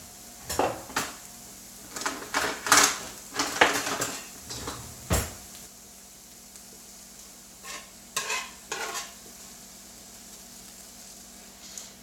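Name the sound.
food sizzling in a frying pan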